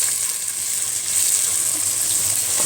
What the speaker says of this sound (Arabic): اشوح البصلة